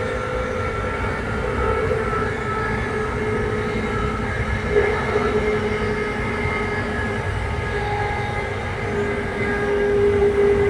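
Amtrak #183 runs on rails, heard from on board as a loud, continuous rumble with wheel noise and a faint steady whine, slowing for a pair of curves, with no voices.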